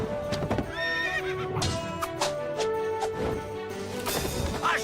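A horse whinnies loudly over busy clip-clopping hooves, with crashing and clattering noises mixed into a dense, loud scene.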